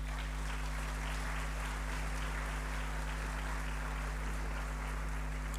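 Steady applause from an audience at a 25th anniversary celebration of a research institution, a dense continuous wash of clapping held at an even level throughout, with a low electrical hum underneath.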